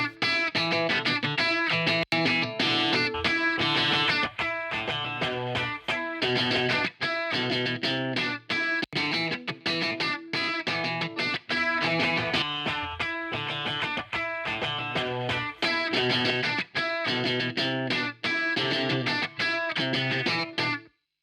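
Distorted electric guitar with EQ boost playing a riff, a continuous loud, full, chord-rich tone with rhythmic muted stabs running throughout without any voice.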